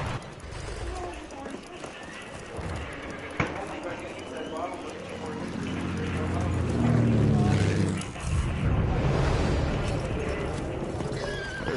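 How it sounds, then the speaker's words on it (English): A horse whinnies loudly amid hoofbeats and busy Battlefield 1 game noise, with people talking over it. "There's one horse kill."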